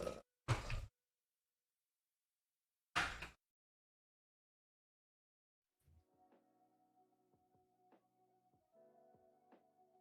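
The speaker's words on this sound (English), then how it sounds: "I had to open the door for my stepson." An interior door being handled in a home: two short thumps and a louder knock-like bump early on, then quiet before faint household sounds and tones follow.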